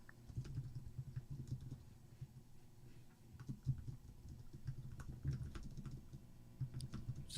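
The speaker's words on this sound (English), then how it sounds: "As Tyra is furiously clicking her notes." Quick, uneven computer keyboard typing as notes are clicked out furiously, a soft, close patter of keystrokes running steadily throughout with no talking.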